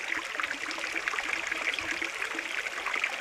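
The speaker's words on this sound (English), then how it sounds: "It's flowing super well. Can you hear the water?" Water rushes and trickles through Casablanca Canyon on the Arizona Trail, a steady, close, bright babble of a flowing desert stream with no voices over it.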